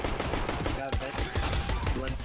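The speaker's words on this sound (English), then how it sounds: "Where are we getting shot from?" Gunfire in the shooter CS:GO, a dense run of rapid shots crackling steadily through the whole stretch, with muffled voices mixed in underneath.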